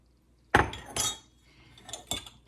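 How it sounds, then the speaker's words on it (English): A spoon clinks against glass jars of cherries as rum is added: a sharp close clink, a second knock, then a few lighter taps with quiet gaps between. "Now to each jar, we're going to add 1 tablespoon of rum."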